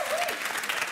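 A television studio audience applauds steadily in a dense patter of clapping, with a voice briefly audible over it.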